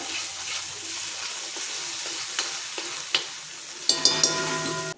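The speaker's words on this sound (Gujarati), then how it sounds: "હિંગ થોડી ગરમ થાય એટલે આપણે એમાં આ પેસ્ટ નાખીશું" Spice paste frying in hot oil with asafoetida over a medium-low gas flame for a black chickpea curry, a steady close sizzle with stirring clinks and scrapes that grow louder and busier near the end.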